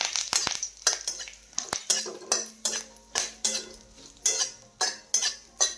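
Spoon scraping and clinking against a metal pan or bowl while fried curry leaves are mixed into puffed rice for Kolhapuri bhadang, a steady series of close, sharp stirring strokes with a faint crackle underneath.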